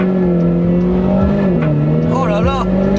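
A car launches hard using launch control: a loud engine revs and climbs in pitch over a few seconds, with a short tire squeal, while a person talks over it.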